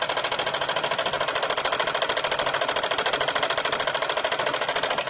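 A sewing machine runs at a steady pace, its rapid rhythmic stitching chatter continuing evenly and close by without pause.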